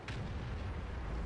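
A tank cannon fires in the World of Tanks video game, an FV215b shooting HESH at an Object 268. It is one deep booming blast with a rumbling low tail that fills the short moment, with no voice over it.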